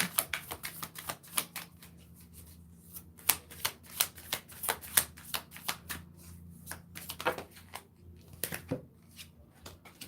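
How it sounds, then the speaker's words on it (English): Close, crisp tarot cards being shuffled by hand, with rapid riffles and snapping taps in bursts and short pauses between them, and no voice over it. "I'm actually going to shuffle 3 times, break 3 times."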